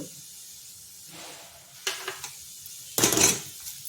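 Blue rice pulao fries in a pan, a soft steady sizzle sounding through the whole stretch, broken by two louder bursts of scraping and clattering as a spoon stirs against the metal.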